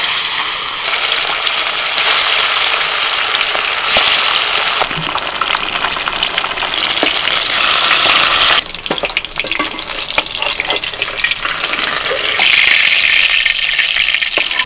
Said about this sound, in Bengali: তেল গরম হয়ে গেছে, এবার একে একে মাছগুলো ভেজে নেব।